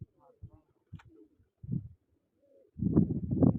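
Pigeons coo in short soft bursts at a pigeon flying contest, quiet at first and then a louder pair of throaty coos near the end, with scattered faint voices between.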